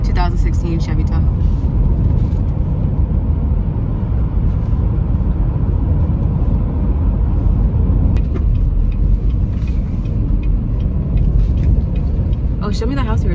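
A used 2016 Chevy Tahoe out on a test drive gives a steady, close interior road rumble and engine drone that runs unbroken throughout, under ongoing conversation.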